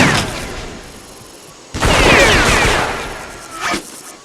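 Gunfire from a jungle war video game with M16 rifles and grenade launchers: a sustained, dense barrage that swells loudly partway through, with a sharp blast-like burst near the end and no voices.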